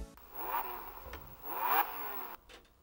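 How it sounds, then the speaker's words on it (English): A Lamborghini-branded gaming laptop plays a synthetic engine-revving sound as it powers up: two rising, low-fidelity revs in quick succession, fairly quiet and alone. "It makes super low definition revving sounds when you power it up."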